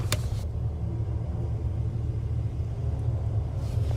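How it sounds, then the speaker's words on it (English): A car speeding near a campsite at night produces a loud, continuous low engine rumble that holds steady and close throughout, with no voices. "Now I hear really fast driving"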